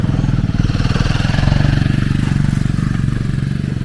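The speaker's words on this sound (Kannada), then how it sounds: "ಸೊ ತುಂಬ ಜನ ಬೈಕರ್ಸ್ ಎಲ್ಲ ಬರ್ತಾ ಇದ್ದಾರೆ" A motorcycle engine idles and revs in a steady loud drone close by, the sound of bikers arriving on a hilltop, with no clear speech.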